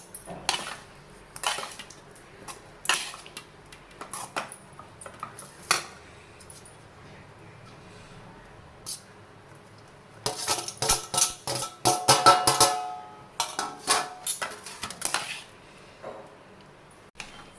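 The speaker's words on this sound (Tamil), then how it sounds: "அதுக்குள்ளே நம்ம லெமன் சாத்து கிண்டிக்குவோம்." Lemon rice stirred in a pan with a metal spoon, bursts of clinking and scraping strokes separated by quiet pauses, with a long, dense run of rapid scrapes near the end, close by and without speech.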